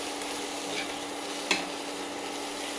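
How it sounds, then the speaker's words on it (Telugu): A chilli egg mixture fries in a pan with a steady, even sizzle while it is stirred, and one sharp scrape or clink stands out midway. "ఈ విధంగా తిప్పుకుంటూ బాగా కలిపేద్దాం."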